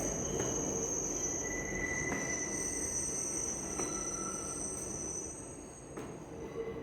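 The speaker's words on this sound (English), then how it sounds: "It's very soothing hearing the trains go by" Trains passing at a distance with faint wheel squeal and steady rumbling rail noise, joined by a high whine and crickets chirping in the background.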